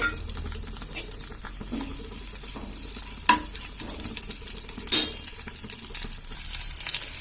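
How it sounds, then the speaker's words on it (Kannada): Garlic, mustard seeds and curry leaves spit and crackle in hot oil for a tempering for bitter gourd curry, a steady close sizzle with a few sharp pops, no talking. "ನೋಡಿ, ನಾನು ಬೆಳ್ಳುಳ್ಳಿ, ಸಾಸಿವೆ ಮತ್ತೆ ಕರಿಬೇವನ್ನ ಹಾಕೋತಾ ಇದ್ದೀನಿ."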